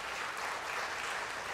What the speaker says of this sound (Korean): 다시 한번 우리 바이올린 앙상블 친구들에게 큰 격려의 박수 보내주시기 바랍니다.